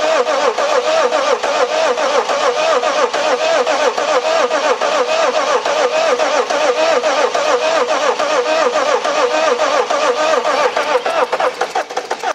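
A BMW X6 30D E71 diesel engine running in a repair shop after starting, a loud, steady mid-pitched clatter that holds evenly throughout without pauses.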